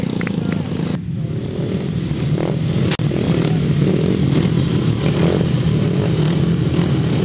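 Grasstrack solo motorcycles racing across the finish line: loud engine roars and revving pass close by, with a sharp crack partway through and an announcer talking over the noise.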